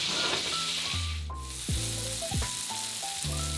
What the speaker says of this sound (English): We're going to give it one more baste and then we're all set.